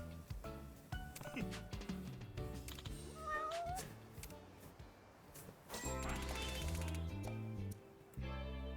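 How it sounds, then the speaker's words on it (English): Cat meowing a few times, faint and brief, amid background music and other noise, with people talking nearby. "so we're taking this cat with us."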